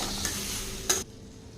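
Masala for a raw jackfruit curry is stirred in a hot pan, a steady scraping and sizzling that ends abruptly.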